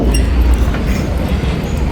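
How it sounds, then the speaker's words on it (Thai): A train runs along the River Kwai bridge railway in Kanchanaburi, Thailand, giving a loud, steady, close rumble of wheels on rails with faint clacking throughout. "อันนี้จะเป็นรางรถไฟมีรถไฟวิ่งจริงๆเลยนะคะ"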